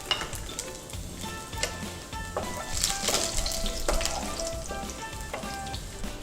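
Chopped garlic sizzles steadily in hot oil, with a dense frying crackle running throughout and occasional clinks and scrapes of a utensil stirring it in the pan, close and fairly loud.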